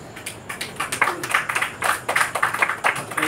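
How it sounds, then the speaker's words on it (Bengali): An audience claps together in a fairly quick, rhythmic burst of dense hand claps that holds steady for a few seconds, with no voices over it. "একটু জোরে করতালি"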